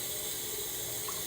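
Water running steadily into a rice cooker pot over rinsed rice, a constant close pouring hiss with no pauses or talk.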